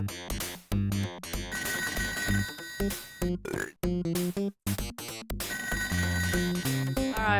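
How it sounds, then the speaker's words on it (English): A ringing telephone in the Toejam & Earl video game, with repeated electronic ring tones mixed into a busy, pulsing game soundtrack and no voice over it. "Alright, where's that phone?"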